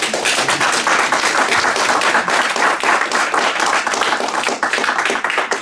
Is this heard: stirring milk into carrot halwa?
no